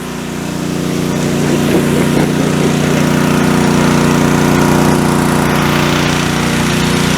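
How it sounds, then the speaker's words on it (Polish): A generator-driven pump draws water from the Wkra river, a loud steady engine drone that runs without a break throughout, with no one talking. "Tutaj pracuje agregat, który pompuje, właściwie jest to pompa, która pobiera wodę z rzeki"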